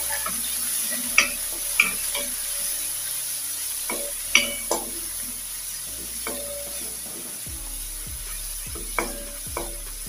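Garlic and onion paste sizzles steadily in a hot pan for an aloo gobhi matar curry, with scattered sharp clicks and scrapes from a spoon stirring it, and no voices.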